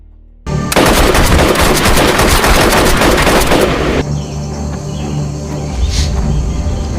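Heavy, rapid gunfire bursts loudly for about three and a half seconds in a jungle camp film scene, then stops abruptly, leaving a low rumble and faint background noise.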